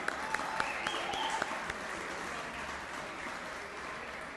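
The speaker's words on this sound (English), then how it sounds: "Let's give a round of applause for the good band." Audience applause for the band at a Hall of Fame induction ceremony, a steady wash of clapping from a crowd that begins with a few sharp individual claps and gradually thins toward the end, heard somewhat distant.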